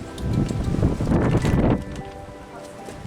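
Wind buffets the microphone outdoors in low rumbling gusts, strongest in the first couple of seconds, then easing to a steadier breeze.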